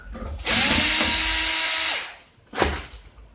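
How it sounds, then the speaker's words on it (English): A power drill backs out a drywall screw in a close, loud whine of about a second and a half that winds down, followed by a second short burst. "go ahead and remove this drywall screw"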